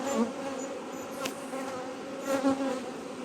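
A honeybee swarm hangs on the frames of a hive, its buzzing a steady, close hum with a few louder passes as individual bees fly near.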